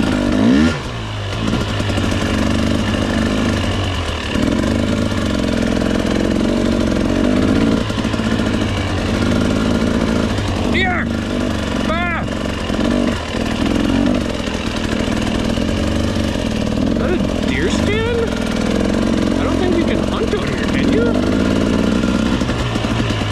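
A dirt bike engine on a single-track OHV trail runs continuously and loud, its tone rising and falling with brief revs as it works along the trail.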